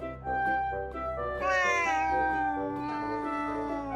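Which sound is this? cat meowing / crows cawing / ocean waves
cat meowing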